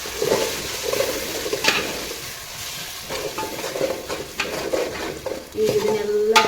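Ground masala with spinach and green chillies frying and being stirred in a pan, a close sizzle broken by scraping stirs and clinks, loud and uneven, with no talk over it.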